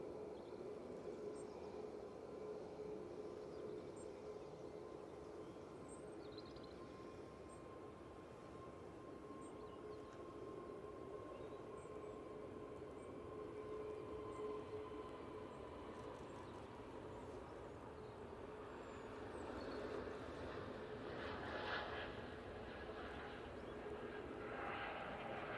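An easyJet Airbus A320neo departs Manchester Airport, its jet engines a faint, distant, steady roar that grows slightly toward the end.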